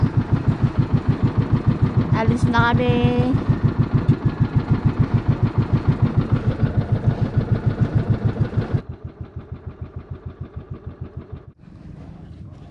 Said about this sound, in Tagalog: paanda na po ng makina